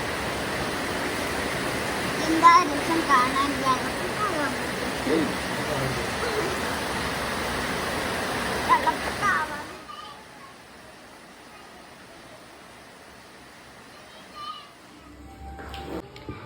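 Heavy rain pours down as a steady, dense hiss for about ten seconds, then drops away to quieter background with a few faint sounds and light noise near the end.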